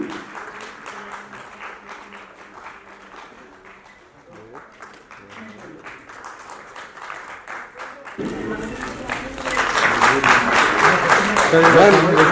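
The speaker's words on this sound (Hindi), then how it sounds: "तालियां लगातार मिलती रहें।" Audience applause at a charity trust's national award ceremony in Jaipur, starting thin and under a voice, then swelling into loud, sustained clapping from a large crowd in the final seconds.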